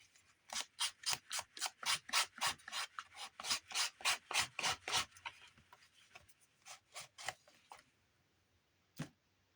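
A fingernail file rasps in quick, even back-and-forth strokes, close and crisp, about twenty strokes in a steady rhythm, then a few slower strokes and a final single scrape after a pause.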